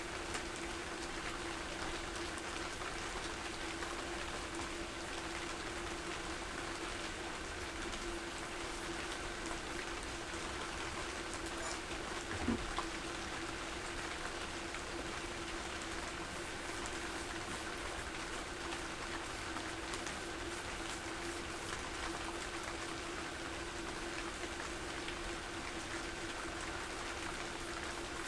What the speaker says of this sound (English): You can hear the rain in the background pounding on the tent